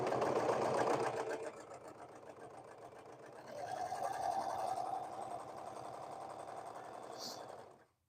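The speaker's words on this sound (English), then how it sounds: "we're gonna sew the short edge for all 3" A sewing machine stitches the short edges of folded fabric bands for a tank top, running in a steady mechanical rhythm at close range with a brief faster burst, then stopping.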